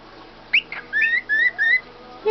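Meeko, a pet bird, gives a short chirp and then a run of three or four clear, rising whistled notes, close and bright against a quiet room, ending with a faint final peep.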